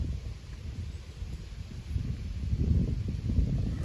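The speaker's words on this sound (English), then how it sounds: "Wind's really strong." Strong wind blows steadily outdoors during bass fishing with live nightcrawler bait, a low rumbling buffet that swells louder in the second half with no voices over it.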